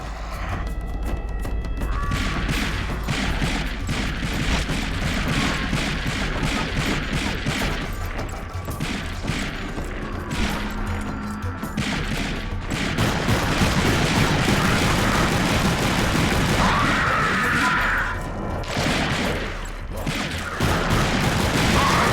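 A PS2 game plays dense bursts of gunfire with booms and crashes, forming a continuous, loud stretch of shooting action and effects that runs throughout.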